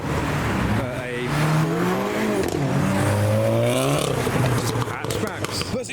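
Modified hatchbacks, including a Polo, a BMW 1 Series and a Golf, rev and pull away from a wet car park meet, engines rising and falling in sweeps as someone talks over them.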